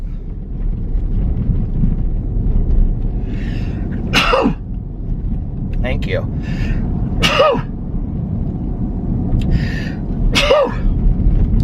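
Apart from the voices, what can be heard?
repeated sneezing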